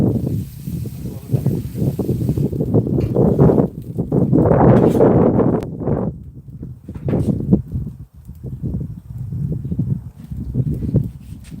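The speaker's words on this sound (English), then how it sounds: "We put dead frozen potatoes on a griddle. Like the griddle's perfectly hot. It's doing its job. Listen to that." Frozen potatoes sizzle on a hot Camp Chef griddle, a steady, loud hissing crackle that swells in the middle and keeps going for the whole stretch.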